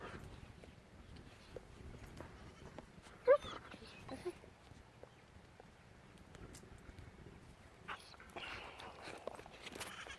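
A dog whimpers faintly in a quiet indoor setting, with a brief higher whine, soft scattered footsteps and movement noises around it.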